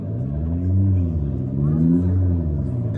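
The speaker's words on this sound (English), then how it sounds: "It sounds like a normal petrol car. Well, the idea is it sounds like an Abarth." A Fiat 500e Abarth electric hot hatch accelerates with a simulated petrol-engine sound, a steady low droning rumble that rises and falls in pitch, heard close and mixed with voices talking.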